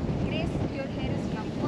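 Wind blowing across a hilltop in Munnar makes a steady rushing hiss and rumble against the microphone, with a voice speaking faintly under it.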